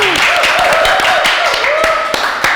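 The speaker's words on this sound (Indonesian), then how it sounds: "Tepuk tangan buat Pak Andi Setiawan." A burst of applause, many hands clapping in quick, uneven rhythm, with a voice calling out over it.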